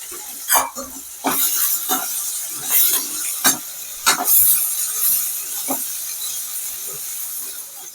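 Tomatoes sautéing in a pan for a potato chutney, with a soft sizzle and hiss and repeated sharp scrapes and taps of a spoon stirring against the pan, close by, no voices.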